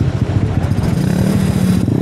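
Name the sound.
motorcycle engine noise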